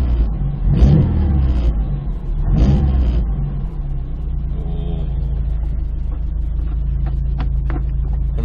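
A Subaru WRX STI VAB with an aftermarket LAILE transmission mount revs twice in loud rising bursts, then settles into a steady low idle rumble with faint clicking and rattling from the drivetrain.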